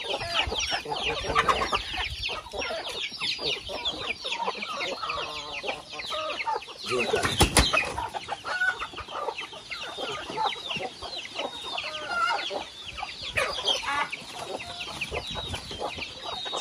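Farm chickens clucking and squawking throughout, dense overlapping calls close by with a brief louder flurry midway, no clear talk.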